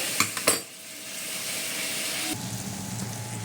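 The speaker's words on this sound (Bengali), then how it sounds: "ভালো করে কষানো হচ্ছে।" Food sautés in a pan with a soft frying hiss, opening with a few sharp utensil clinks against the pan, then settling into steady sizzling and stirring.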